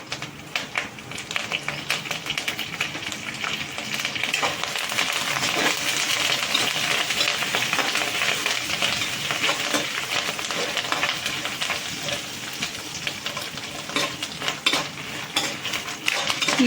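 Curry leaves fry and crackle in a hot pan while being stirred, giving a continuous sizzle with frequent sharp clinks and scrapes of a metal spoon against the pan, close up, without speech.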